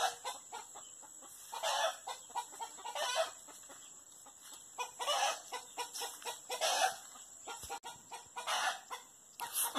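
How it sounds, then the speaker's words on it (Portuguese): Chickens cluck in repeated bursts with a rooster crowing among them on a small farm, a busy, moderately close flock with no talk. "Galinha cantando."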